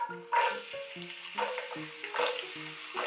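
Garlic dropped into heated olive oil for gambas al ajillo gives a steady close sizzle, with a few sharper crackling bursts, while soft melodic tones sound alongside.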